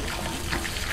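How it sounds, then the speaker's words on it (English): Water pumped up from a deep well by a hand-turned wheel pump gushes and splashes in a steady, continuous pour, close by. "It is too easy for us to pump the water from this well."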